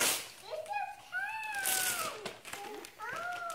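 A cat meows several times in quick succession, soft and nearby, with drawn-out wavering cries.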